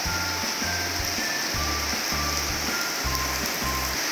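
Steady heavy rain pours down in a dense, continuous hiss, loud and close, during a baby elephant's first rainstorm, with no talking over it.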